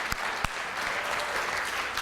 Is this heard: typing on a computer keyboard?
no